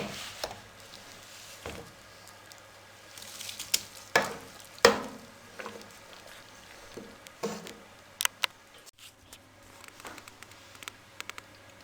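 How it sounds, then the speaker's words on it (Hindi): Semolina and flour are stirred little by little into sugar syrup for pairray, with soft intermittent scraping and tapping of a spoon in the pot, fairly quiet and close. "थोड़ा थोड़ा करके इसमें डाल के इसको अच्छे तरीके से मिक्स करते जाएंगे"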